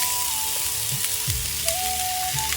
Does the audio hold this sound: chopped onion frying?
yes